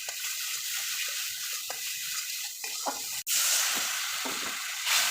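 Turmeric and dried chilli sizzle in a hot pan for a vegetarian chhanar dalna, a continuous bright hiss that jumps louder partway through as more goes in.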